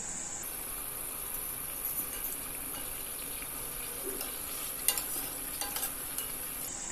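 Kachori frying in hot oil in a pan over medium flame, a steady close sizzle and bubbling hiss holding throughout, with a few faint clinks, no talk.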